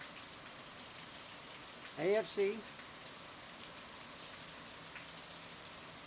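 Steady rain runs down outdoors over grass, a soft continuous hiss with a brief voice speaking midway.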